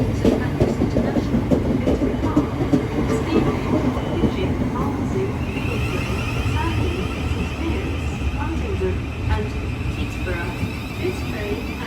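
A Southeastern passenger train on the Charing Cross to Gravesend service rumbles steadily at a busy London Charing Cross platform, with continuous low mechanical noise, occasional clatter and background station sounds. A voice talks over it.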